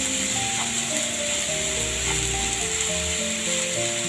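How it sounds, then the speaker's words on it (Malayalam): Washed ragi (finger millet) dry-roasting in a pan, giving a steady close sizzling hiss with light scraping and rattling throughout, no voices present. "അതിലോട്ട് നമ്മൾ കഴുകി വെച്ച റാഗി ഇട്ട് കൊടുക്കുന്നുണ്ട്. ഇനി അത് വറുത്തെടുക്കാം."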